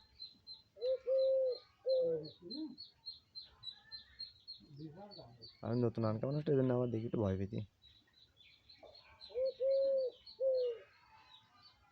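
Doves coo in repeated soft phrases close by, with rapid high chirps from other birds running throughout, while someone talks between and over the calls.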